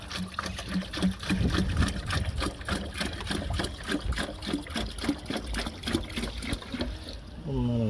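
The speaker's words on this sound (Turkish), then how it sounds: "Bu suluğumuzu da dolduralım." Water pours and trickles steadily into a pigeon waterer, a continuous close filling sound with fast rhythmic pulsing throughout and a voice speaking faintly beneath it.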